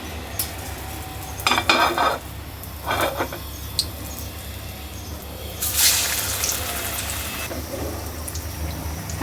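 Onions frying in hot oil to make beresta, a steady hiss of sizzling with intermittent clinks and scrapes of a utensil against the pan, close up.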